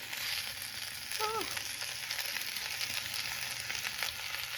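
Vegetables frying in a pan for shoyu ramen, giving a steady, even sizzle throughout with a brief faint tonal sound partway through.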